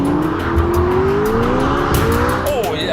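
McLaren 12C Spider V8 powering hard out of a corner, its engine note climbing steadily under load, loud and close, with brief tyre squeal near the end.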